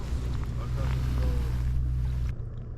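A boat motor drones steadily on the water during a fishing trip, a close, loud low hum that cuts off abruptly near the end, with faint wind over it.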